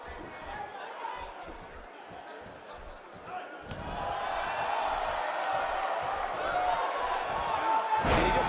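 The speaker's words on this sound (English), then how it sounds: "I don't recall the last time I heard a classic crowd this loud." Wrestling crowd at an indoor event, rhythmic thumping and stomping that swells into a sustained, loud roar of cheering in the second half, ending in a sharp burst.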